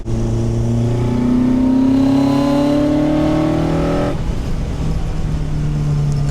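A Caterham sports car engine revving up, its pitch climbing steadily through a gear before dropping and settling into a lower, rougher drone, loud and close with no voices.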